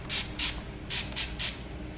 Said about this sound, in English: I use the Skin Inc Pure Serum Mist.